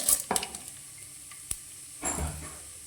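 Mustard seeds, cumin and urad dal go into hot oil for uppittu and sizzle in a pan, with a couple of sharp clinks and crackles at first, then a soft frying hiss rising again near the end, with no speech.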